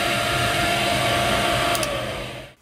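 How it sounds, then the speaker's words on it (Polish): Air extractor fan running inside a camper van, a steady loud broadband whoosh that holds level, then fades and cuts off at the end. "włączasz sobie wyciąg."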